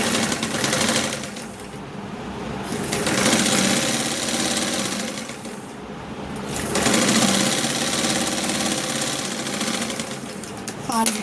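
A sewing machine stitches blouse lining cloth in three bursts of rapid, loud mechanical chatter, separated by short pauses, while someone speaks over it.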